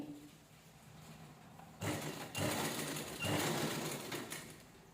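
A sewing machine stitches blouse fabric in short, close bursts of whirring, starting and stopping three times with quieter pauses in between.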